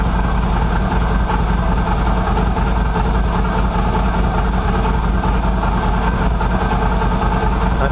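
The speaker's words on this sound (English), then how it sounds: "I'm thinking it's the whining sound is either the clutch or the stator." A Qlink QBK 250 Adventure motorcycle engine runs after sitting, with a suspected worn clutch or stator fault, giving a steady, loud, close idle drone with a persistent whine and no break throughout.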